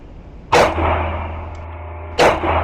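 Two sharp pistol shots from a Springfield Armory Hellcat and a Sig P365XL fired at short range, each a loud crack with a ringing tail, spaced about a second and a half apart over a low steady hum.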